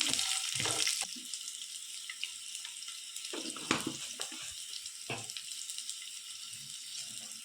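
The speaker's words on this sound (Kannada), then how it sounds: "1 ಈರುಳ್ಳಿ, ಇದೆರಡು ಫ್ರೈ ಮಾಡ್ಕೋಬೇಕು" Chopped onion and garlic frying in a pan for a green chicken kushka dish, a close, steady sizzle broken by a few louder clattering bursts of stirring, with no talking.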